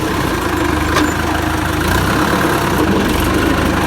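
Farm vehicle engine running on a bumpy village road in Pakistan after shifting into second gear: a steady, close diesel-like rumble with constant low vibration and no breaks, with no talking over it.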